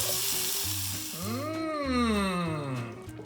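Whole peeled canned tomatoes hit a hot cast iron pan for shakshuka, giving a steady close sizzle and bubbling frying noise with a rising and falling hiss, with no voices.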